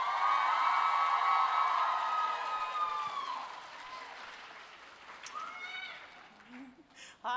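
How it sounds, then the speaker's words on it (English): An audience at an Anime NYC 2023 panel for Disney Twisted-Wonderland applauds and cheers, a dense wash of clapping under loud sustained musical tones that gradually fades. "please give a round of applause for Disney Twisted-Wonderland at Anime"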